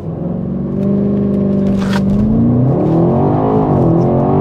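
A 600 hp BMW X5M F95 SE launches hard from 0 to 100 km/h, its engine note climbing steadily and loudly through the revs with a brief shift mid-run before pulling up again.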